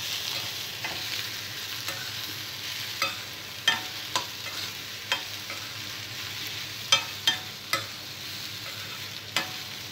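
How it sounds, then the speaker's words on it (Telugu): Ridge gourd pieces frying in hot oil, with turmeric added while they cook, give a steady soft sizzle. A spoon stirring in the pan taps the vessel now and then, sharp and close. "బీరకాయ ముక్కలు ఫ్రై అవుతున్నప్పుడు కొద్దిగా పసుపు వేసుకోవాలి."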